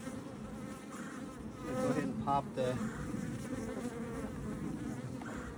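Honeybees drone densely around a hive entrance after a Demaree split, a thick continuous buzz of many returning bees close by, with someone briefly speaking over it.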